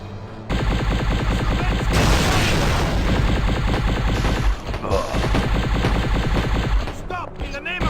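A huge cavern explosion after a reactor chain reaction in Destroy All Humans! 2 roars loud and close, a sustained rumbling blast with crackling debris that rolls on for several seconds, with a voice briefly shouting near the end.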